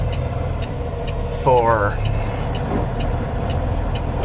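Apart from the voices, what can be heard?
car engine idling in traffic behind a cattle trailer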